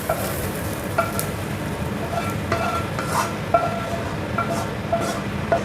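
Salted fish frying in a pan at home, a steady close sizzle with occasional sharp spits and pops, heard alone without talking.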